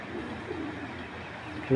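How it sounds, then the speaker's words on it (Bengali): A Satin pigeon hen coos low and steady close by, while someone talks over it. "অনেক সুন্দর একটা কবুতর"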